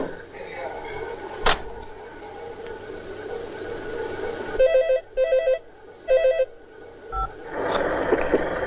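A telephone in a 2004 Marathi film scene gives three short, loud bursts of electronic ringing, after a stretch of background sound and a sharp knock, with a voice heard around the rings.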